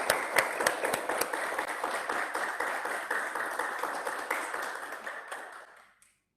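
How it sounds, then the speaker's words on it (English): Audience applause at the opening of a public health conference on tropical and coastal development, a steady dense clapping with sharp individual claps on top that holds for several seconds, then fades out quickly near the end. "Please give a big applause, everyone."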